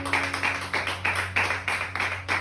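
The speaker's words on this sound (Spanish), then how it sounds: "Un aplauso al Señor." A church congregation claps in a steady, regular rhythm of about four beats per second, moderately loud, over a low sustained hum.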